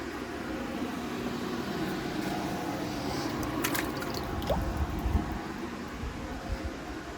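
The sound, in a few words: watering potted Sedum 'Autumn Joy' plants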